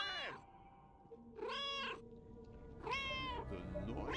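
A cat in the game Another Sight gives three drawn-out meows, spaced apart and fairly close, each a rising then falling cry over a quiet background with no speech.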